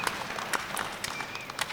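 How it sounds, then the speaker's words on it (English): A short patch of light, scattered applause from a seated audience at a community forum, soft overlapping claps with a few sharper ones standing out. "I'd like to go ahead and give them a round of applause"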